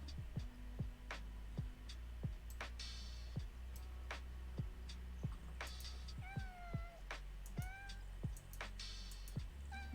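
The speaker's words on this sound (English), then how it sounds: "It's a kitty cat." A cat in the video game Tower of Fantasy meows a few times in short, quiet calls over a regular ticking beat, faint and without talk.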